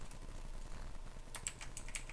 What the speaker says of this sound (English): my fingers like to run around the keyboard a bit